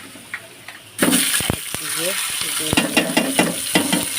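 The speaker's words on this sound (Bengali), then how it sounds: "মশলা কষাই নিতেছি" Quiet at first, then spices hit a hot pan with a sudden loud sizzle that keeps going under repeated clattering stirs of a spoon, while voices are heard faintly in the background.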